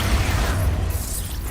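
A burst from the Expulso blast spell in Hogwarts Legacy on hard mode, a loud low boom with a rushing, noisy tail that fills the short moment with no talk.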